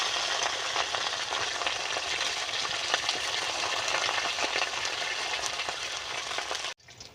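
Lau leaf paturi parcels, three at a time, crackle and sizzle in a pan of hot oil, a steady close frying hiss that cuts out abruptly near the end.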